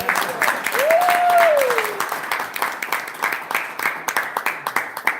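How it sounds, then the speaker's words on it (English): Brief round of applause from a small audience at a speakers bureau club meeting, scattered hand claps that thin into sparse, separate claps, with a voice speaking briefly over the start. "Okay, round of applause"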